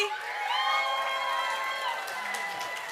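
Young competitors and families cheer and shout together at the Braille Challenge finals awards ceremony, a steady, fairly close wave of whoops and high children's voices holding for a few seconds, then easing slightly.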